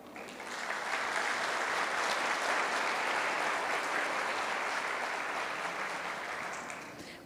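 An audience at a spiritist conference gives sustained applause, a dense, even wash of many hands clapping that swells in and tapers off near the end, heard alone at a moderate distance.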